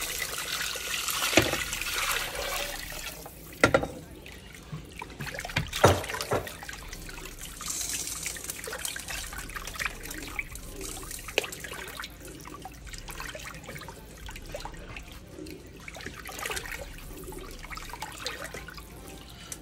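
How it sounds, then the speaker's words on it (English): Eight cups of water trickle and splash steadily into a pot for ravioli soup, a faint continuous pour with a few clunks, close by and with no talking. "I added 8 cups of water in there"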